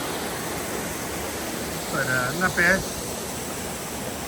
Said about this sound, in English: This is Zealand Falls right here.